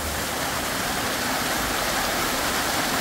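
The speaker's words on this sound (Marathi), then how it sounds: "हा आहे तो खळखळाट पाण्याचा" A flowing stream on the Sinhgad fort hill, where a spring runs down. The water makes a loud, steady rushing and gurgling wash that fills the whole stretch, close by and without pauses.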